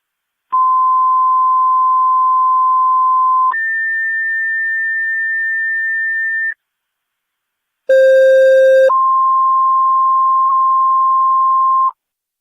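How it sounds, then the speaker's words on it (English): Fire dispatch paging tones for a Niagara County fire company over a radio scanner: a loud, steady tone that steps up to a higher pitch, then a pause, then a harsher tone dropping to a long steady one, with no voices. "your second set of tones"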